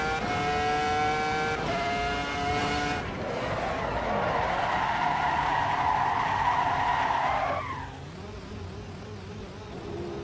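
Tyres skid and squeal in the Assetto Corsa EVO racing game during a flat-spot demonstration, a loud sustained screech lasting several seconds over engine drone before cutting off, with no voices.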